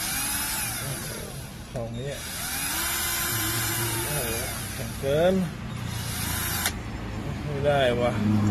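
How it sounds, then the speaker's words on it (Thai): A high-pitched power drill whines steadily against stainless steel, running almost continuously with brief pauses, while a person talks over it. "มันเป็นสแตนเลสผมไม่รู้สว่านผมจะเจาะได้หรือนะ โอเคเดี๋ยวผมลองเจาะดูก่อน"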